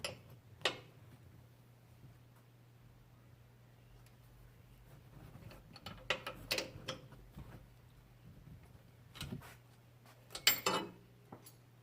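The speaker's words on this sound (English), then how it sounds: "is remove the 3 bolts that are on top of the strut tower. Those nuts are an 18mm." Faint, irregular ratchet clicks and metallic ticks come from removing the 18mm strut tower nuts on a Chevrolet Colorado ZR2, in short bursts over a low steady hum.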